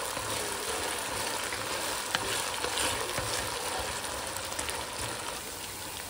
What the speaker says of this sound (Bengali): খুব ভালো করে গোল্ডেন ব্রাউন করে ভেজে নেব পেঁয়াজগুলো